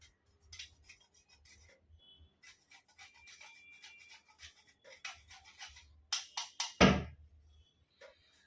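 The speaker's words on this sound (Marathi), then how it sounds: "आपण थोडंसं जायफळ मध्ये किसून टाकू" Nutmeg is grated into a sweet puran poli filling, producing a run of soft, quiet scraping rasps with a few louder strokes and a thunk near the end.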